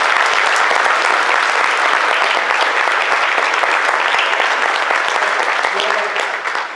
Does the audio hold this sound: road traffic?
no